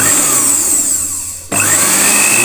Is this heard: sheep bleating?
no